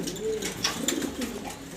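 A male grizzle pigeon sitting on eggs gives a soft, low, rolling coo up close, lasting under two seconds.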